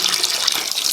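Warm water running steadily from a tap into a sink for felting knitted yarn, a close, continuous splashing gush with no voices.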